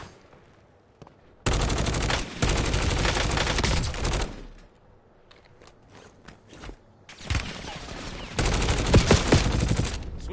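Gunfire in Call of Duty: Warzone, long bursts of loud, close automatic shots in two main volleys separated by quieter stretches with scattered single shots and footsteps.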